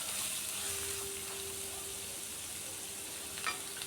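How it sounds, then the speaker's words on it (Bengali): Two medium chopped onions frying in hot oil in a pan with garlic, a steady close sizzle throughout with a faint stirring scrape near the end, and no talk. "পেঁয়াজটা দিয়েও একটু লাল করে ভাজবো।"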